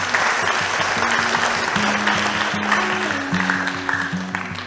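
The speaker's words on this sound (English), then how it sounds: "A big applause to them" A crowd at a graduation ceremony applauds steadily, with many hands clapping together over a low sustained musical hum underneath.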